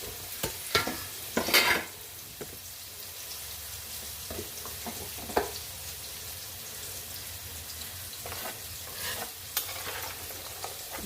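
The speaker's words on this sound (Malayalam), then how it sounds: "കുറച്ചുകൂടെ തിളക്കട്ടെ" Fish curry made with anchovies simmers and bubbles in a pan, a soft steady sizzle under scattered clicks and stirring scrapes, with no voices.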